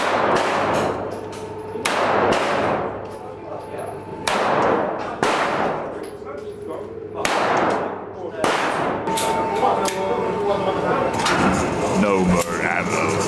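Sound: gunshots at a shooting range

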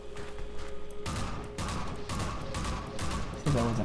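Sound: gunfire shooting at gunships in Half-Life 2 video game

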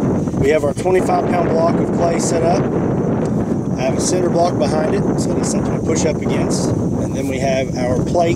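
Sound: strong wind blowing across microphone outdoors

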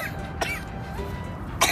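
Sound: cough

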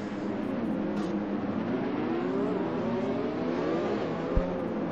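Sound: Red Bull Racing Honda car engine in a Formula 1 video game

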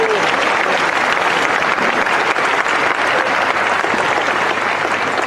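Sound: applause

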